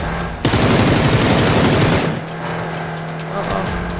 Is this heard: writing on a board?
no